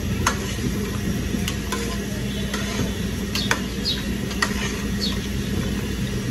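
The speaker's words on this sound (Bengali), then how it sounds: "দুধটা দিয়ে একটু ভালোভাবে লাড়াচাড়া দিয়ে দিলে দুধটা কিন্তু খুব সুন্দরভাবে মিশে যাবে" Powdered milk being stirred into biryani in a pot: a steady scraping and swishing bed with sharp, intermittent clinks of a utensil against the pot, and no voices.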